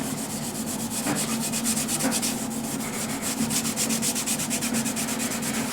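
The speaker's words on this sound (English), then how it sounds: "I'll just apply it, and I'm using Scotch Brite pad because I can get it really thin and really rub it in the grain." A Scotch-Brite pad rubs a thin coat of finish into the grain of a large wooden platter, making a continuous close scrubbing hiss with quick back-and-forth strokes.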